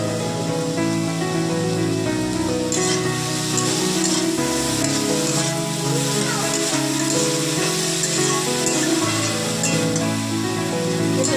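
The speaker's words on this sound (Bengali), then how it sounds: "লাল লাল করে ভেজে নেবো।" Vegetables fry in hot oil with turmeric for a palong shak (spinach) ghonto, with eggplant in the pan. A loud, continuous close-up sizzle is broken by occasional stirring scrapes, and it runs unbroken throughout.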